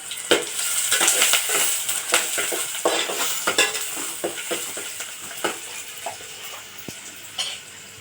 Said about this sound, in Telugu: ఇక ఆయిల్ వేడవగానే వేసుకోవాలి. కొన్ని పచ్చిమిర్చి, ఆనియన్స్ అయితే వేస్తున్నా.